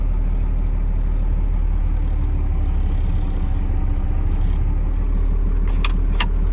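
Cummins-powered truck driving through a neighborhood toward a shop, a steady low engine drone and road rumble running throughout at close range, with a couple of brief sharp rattles near the end and no talking.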